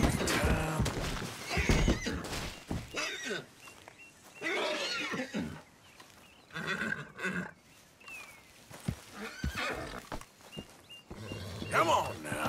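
A Suffolk horse neighs and whinnies several times, loud and close, with snorts and hoof thuds in between.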